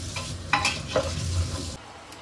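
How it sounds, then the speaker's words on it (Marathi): Chicken frying in a pan, a steady low sizzle with a few sharper stirring scrapes, close and fairly loud, cutting off abruptly near the end. "तर हे चिकन मी मस्त फ्राय करून घेणार आहे"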